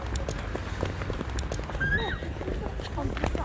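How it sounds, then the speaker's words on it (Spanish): Horses neighing over clip-clopping hooves in a guess-the-song game, a whinny rising briefly mid-clip amid steady hoof beats and busy background talk and music. "Los caballos."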